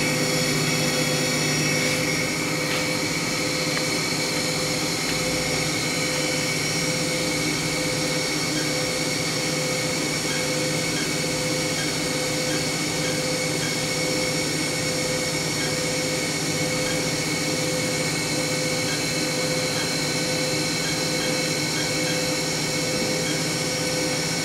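A Haas VF0 vertical machining center spindle, rated to 7,500 RPM, runs at speed as a loud, steady, close whine with a constant mechanical hum and no talking.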